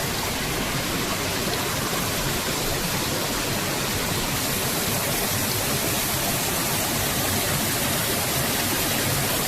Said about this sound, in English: That's the overflow for the mill pond.